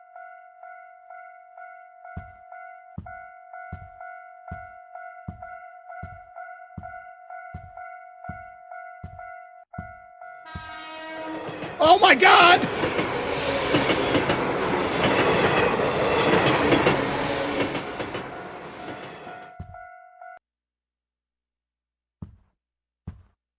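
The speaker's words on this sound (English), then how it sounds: "So they'll warn you before the train comes." A video game train in Atta Spot the Oddities rushes past after a run of regular warning chimes over a steady tone, a loud roaring, clattering passage lasting about ten seconds before cutting off, with a brief exclamation.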